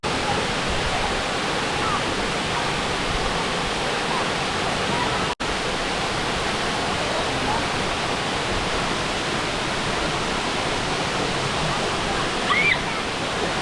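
A waterfall in Bali roars steadily, a dense unbroken wash of falling water that stays loud and close throughout, with a brief sharp break midway.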